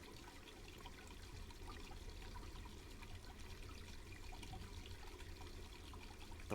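Boiling water steams up a bathroom in the video game Black Mirror II: Reigning Evil, a constant faint bubbling and trickling hiss with no talking and no clear pauses.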